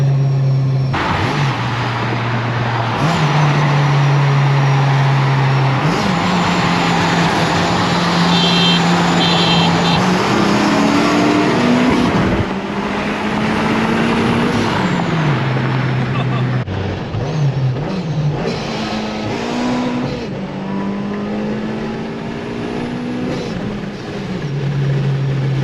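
A Lexus IS F accelerating hard on the road, its engine tone climbing loudly in repeated sweeps and dropping back between gear changes, with a voice talking over the drive.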